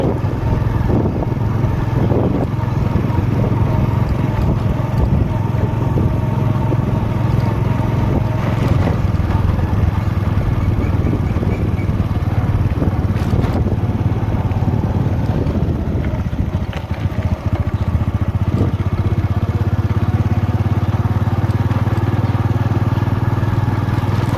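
A steady, low diesel tractor engine drones continuously outdoors in a farm field, rumbling without pause, with some wind buffeting the microphone.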